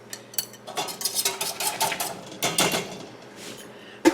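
Carrots are packed tightly into glass canning jars for maple glazed carrots, producing close, busy clinks and knocks of vegetables and fingers against glass in irregular bursts, with a faint steady hum underneath.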